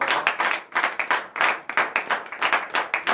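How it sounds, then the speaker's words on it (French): Congregation at a morning prayer service in Benin clapping in strong rhythmic bursts, loud and close, with cheering acclamation mixed into the steady beat. "donne une vive acclamation à l'Éternel ce matin"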